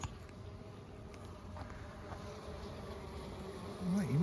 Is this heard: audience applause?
no